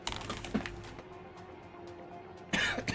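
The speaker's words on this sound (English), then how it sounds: "I'm gonna take the moment to cough as well and clear my lungs out." Someone coughs and clears their throat during a game stream workout break, two short rough bursts at the start and end with a quieter stretch between, close to the microphone.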